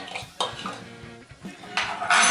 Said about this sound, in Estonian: Võtan lusika. Nii, segan need asjad ilusti ära.